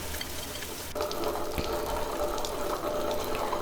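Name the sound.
water sprinkled into grinder grinding urad dal batter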